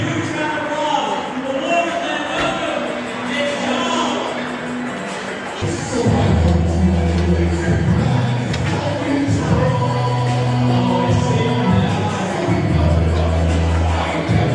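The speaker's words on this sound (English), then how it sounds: "give a huge round of applause" A large audience in a studio hall applauds after being asked to rise from their seats; steady, dense clapping and crowd noise fill the room, swelling louder about halfway through, with a low rumble underneath.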